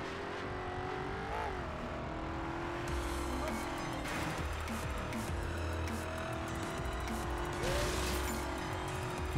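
A car driving in the video game Carmageddon: Reincarnation, its engine revving up and down with shifting pitch and a few tire squeals, loud and continuous.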